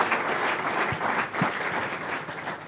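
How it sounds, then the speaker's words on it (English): A small audience at a startup pitch meetup claps in a short, moderately loud round of applause, steady and close, with no voices over it. "How about just a round of applause for the generosity?"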